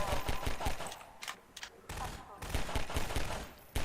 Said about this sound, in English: using my sniper rifle to great effect